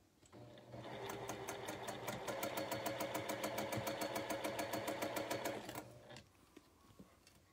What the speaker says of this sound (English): That's the line I'm sewing on, so nobody's going to see it.